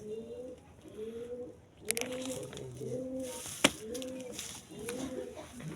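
Rajshahi pigeons coo in a steady series of repeated rolling calls, close by, with a few sharp clicks and knocks in between and no talking.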